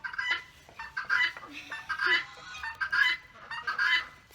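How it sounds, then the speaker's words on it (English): A homestead guinea fowl calls over and over in loud, harsh, rhythmic cackles that go on without pause, close by and alone. "The guinea will not hush!"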